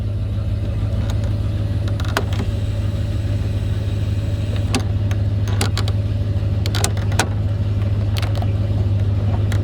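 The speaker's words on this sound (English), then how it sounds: "Can't hear it that well because of the engine running on the truck." A Ram pickup truck engine idling steadily with a strong low hum throughout, close and constant, with scattered sharp clicks and taps on top.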